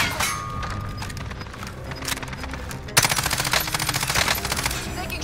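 Gunfire in Call of Duty: Modern Warfare, sporadic shots and distant crackling at first, then a loud, fast rhythmic burst of automatic fire that keeps going to the end.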